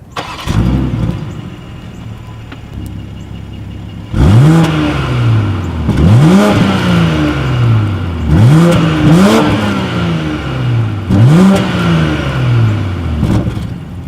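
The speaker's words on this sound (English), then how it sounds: "As always, here is that exhaust clip." A car engine revs repeatedly, each loud exhaust roar climbing and falling back to idle, about five blips in a row with no talking.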